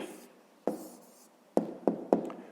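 Pen strokes on notebook paper as an answer to a fifth-grade maths exercise is written out, a few short scratchy bursts separated by pauses, close and quiet with no talking.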